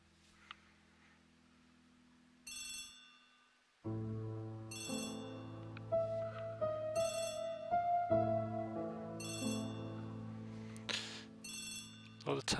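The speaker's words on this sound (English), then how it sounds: "Oh, the telephone's ringing." A telephone bell rings in short repeated bursts in the Agatha Christie: The ABC Murders PC game, faint at first, then sounding over a sustained musical score that swells beneath it.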